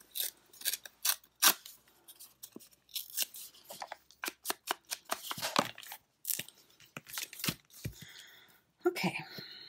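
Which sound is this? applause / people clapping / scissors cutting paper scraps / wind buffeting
scissors cutting paper scraps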